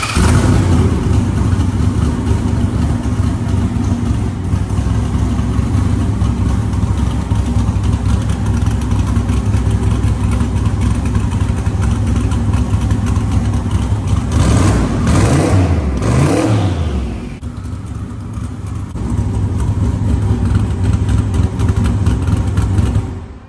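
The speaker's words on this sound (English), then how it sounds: "You want to start up so you can hear it?" A GM 572ci big block V8 in a 1970 Nova runs steadily and loud at close range, swelling into a couple of quick revs before dropping back to a rough idle.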